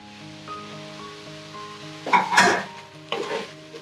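Chicken and soy-sauce-marinated paneer fry in a pan for mixed fried rice, a steady sizzle with a louder burst of stirring and scraping midway and another shorter one near the end.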